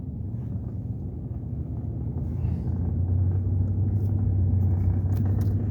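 A car drives through morning road traffic, giving a steady low engine and road rumble with a faint drone joining midway, heard from inside the vehicle without talk.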